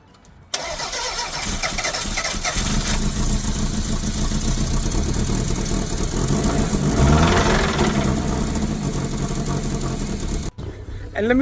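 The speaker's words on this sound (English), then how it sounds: "we're going to go and get this car started." A Toyota MR2 engine, powered by a jump starter, cranks and catches after a short silence, then settles into a loud, steady idle with a slight rev before cutting off near the end.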